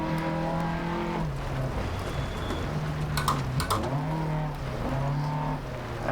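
Rally car engine from DiRT Rally 2.0 revs loud and close, dropping pitch through gear changes and climbing again, with a brief scrabbling burst of gravel or tire noise midway.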